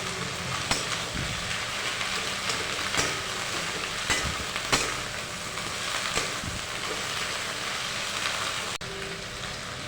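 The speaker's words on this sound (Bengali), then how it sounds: "এবার ভেন্ডিটা পেঁয়াজের সাথে ভালো করে একটু তেলের মধ্যে নেড়ে নিচ্ছে" Okra and onion stirred in hot oil for a village-style cashew-okra-poppy-seed dish, giving a steady crackling sizzle with scattered pops and scraping stirs throughout, close and fairly loud, with no voices.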